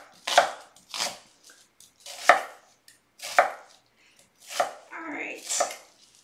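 Knife chopping garlic or onion for a creamy cashew spinach artichoke dip, heard as six distinct bursts of quick cutting strokes on a board at a steady, fairly close rhythm with brief pauses between them.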